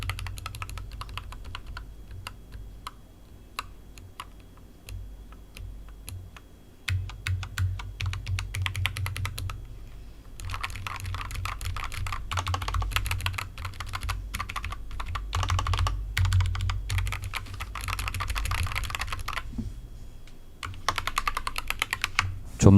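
Typing on a GamaKay CK87 mechanical keyboard with Cherry-profile keycaps, rapid bursts of clicky keystrokes separated by short pauses, close and clear over a low background hum.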